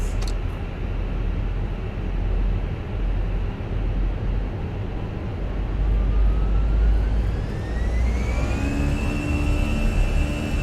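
Engines of an Airbus A320 in a flight simulator spool up for takeoff at Dusseldorf. A loud steady roar and rumble holds throughout, with a whine rising in pitch in the second half and settling into a sustained high tone.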